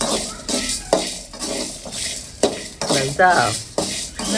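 Dried turkey berries dry-roast in a pan over low heat while a spoon stirs and scrapes them, giving repeated close, rhythmic scraping strokes with clinks of metal on the pan and a faint sizzle.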